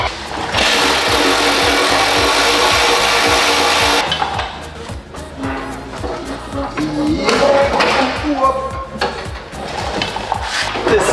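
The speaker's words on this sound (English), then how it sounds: "once I take these two bolts off, this whole thing should want to come down" A power tool whirs loudly up close for about four seconds while exhaust bolts are removed on a Porsche 911 GT3 RS. Clanking and rattling tool work follows, with no talk.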